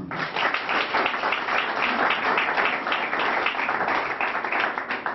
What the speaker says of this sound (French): je vous demande des applaudissements